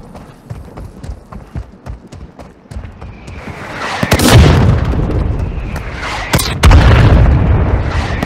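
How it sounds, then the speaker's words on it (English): Mortar strike explosions in the mobile shooter game Warzone Mobile: after a stretch of quick footsteps and light impacts, heavy booming blasts roll in, a loud near one followed by another a couple of seconds later, with rumbling debris. "Hostile mortar strike incoming."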